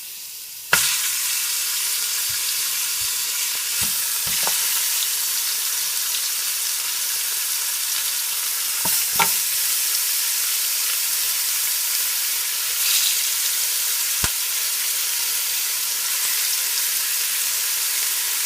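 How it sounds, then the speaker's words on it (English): Oxtail searing in hot vegetable oil in a pot over a medium stove, a steady loud sizzle and hiss running throughout with a few sharp pops and crackles scattered through it. "I'm just adding my oxtail to my pot now."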